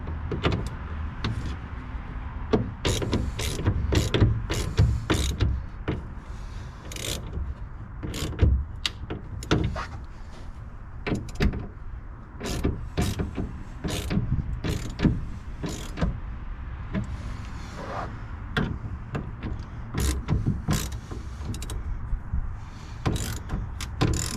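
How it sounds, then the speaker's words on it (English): A rail clamp for a Gator EFX tonneau cover is tightened down on a Chevrolet Silverado ZR2 truck bed, giving a long series of sharp ratcheting clicks and metallic taps, close and steady over a low background hum. "go ahead and tighten it down"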